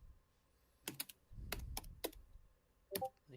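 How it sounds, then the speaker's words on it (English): Keystrokes tapping on a computer keyboard in short clustered bursts over a faint background murmur, some clicks sharp and close, with a few quieter gaps between them. "I hear She's typing."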